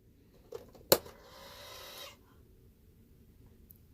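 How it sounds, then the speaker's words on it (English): A tortoise gives a sharp click, then a breathy, rasping call about a second long. The sound is faint and close, with no other sound around it. "that was a tortoise you just heard"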